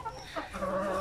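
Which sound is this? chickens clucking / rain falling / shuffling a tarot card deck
chickens clucking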